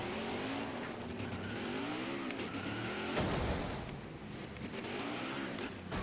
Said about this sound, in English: Where is the caution for the car spinning in the turn?